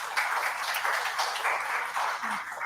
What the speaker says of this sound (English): just maybe give them a round of applause